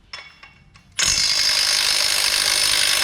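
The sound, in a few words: impact wrench removing Hemi flywheel bolts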